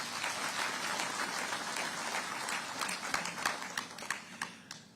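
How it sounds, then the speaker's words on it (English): Audience applause for His Excellency at a SADC Summit public lecture, dense steady clapping from a large crowd that thins into scattered distinct claps near the end. "Let's give him a round of applause"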